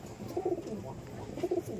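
Teddy pigeons coo inside a loft, two short rounds of low throaty calls rising over a soft hum of the flock nearby.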